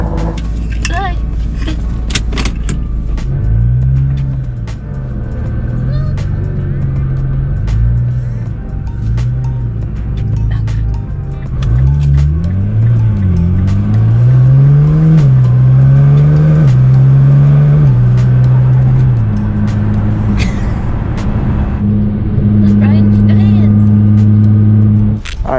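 A 600 WHP Nissan GT-R R35 accelerating hard, engine note climbing through repeated rising sweeps and gear changes, loud and close inside the car, with people talking over it.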